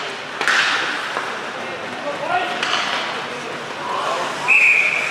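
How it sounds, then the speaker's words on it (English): A referee's whistle sounds during a 14U youth ice hockey district tournament game, with short shrill blasts cutting through the arena noise while a commentator talks over it. "Whistle here, off the draw."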